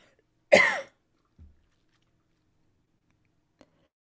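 A single sharp cough rings out nearby in a quiet room, followed by a faint throat sound and a tiny click, with silence in between.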